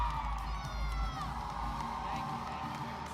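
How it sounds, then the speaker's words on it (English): A gymnastics crowd and team at a men's NCAA meet cheer, whoop and shout during a vault, with rhythmic clapping along and a sustained roar of many voices, loud and close. "You see the crowd and the team getting hyped up here,"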